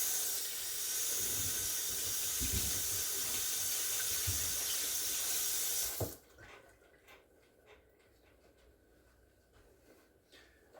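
A kitchen tap runs in a strong, hissing stream for about six seconds while something is rinsed. The water then cuts off abruptly, leaving faint clatter and room noise.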